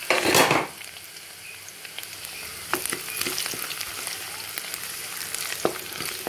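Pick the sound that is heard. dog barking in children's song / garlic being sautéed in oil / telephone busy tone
garlic being sautéed in oil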